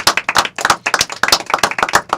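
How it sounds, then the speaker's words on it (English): Crowd at a spoken word competition finale claps enthusiastically, sharp individual claps overlapping in a lively burst, close and loud. "we give yourself a round of applause"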